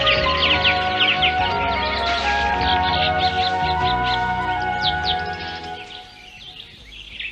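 Birds chirp and tweet in quick high bursts over a dense bed of animated jungle music and a horse-like whinny, fairly near and busy before fading toward the end.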